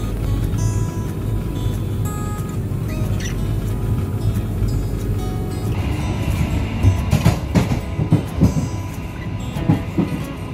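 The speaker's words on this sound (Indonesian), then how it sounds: "Kereta api Jayabaya yang saya naiki menuju ke Surabaya" A Jayabaya passenger train bound for Surabaya rumbles steadily along the rails, with the rhythmic clack of wheels and occasional metallic squeals growing busier toward the end.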